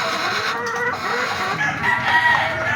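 Chickens cluck steadily in breeding cages, with bright, overlapping clucks and calls close by, continuous over a short stretch with no talking.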